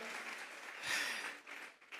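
A church congregation at a Sunday service claps together as an offering of praise: faint, distant, continuous applause that swells briefly, then thins out.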